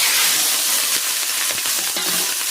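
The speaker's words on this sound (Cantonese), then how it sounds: "燒熱個鑊啊！ 俾啲勝瓜俾鹽落去先啊！" Sponge gourd and salt sizzle loudly in a hot wok, making a dense, continuous frying hiss with small crackles and stirring scrapes, close and alone with no talk.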